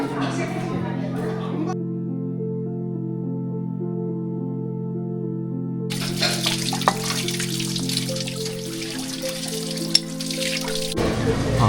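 Running water rinses eating bowls at a mountain rest stop on a hiking trail, a broad rushing wash over a sustained tonal hum. A voice can be heard nearby.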